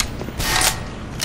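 A weapon reload in Black Mesa, the Half-Life remake: a short sequence of metallic clicks and mechanical clacks, fairly close and moderately loud, with no one talking over it.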